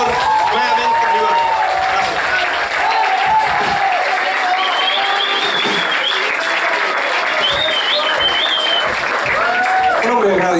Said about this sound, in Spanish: un aplauso para ustedes mismos porque llenaron de calor nuevamente arriba